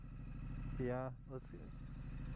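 A 2019 Triumph Street Scrambler motorcycle engine rumbles low and steady in the background throughout, while someone briefly speaks over it.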